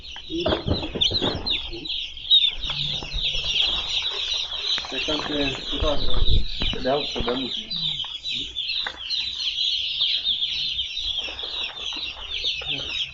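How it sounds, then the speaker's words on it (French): More than 3000 baby chicks at a poultry farm in Côte d'Ivoire peep together in a constant shrill chorus, with low voices and handling noises mixed in underneath. "Une marée de poussins. Plus de 3000 poussins au même endroit."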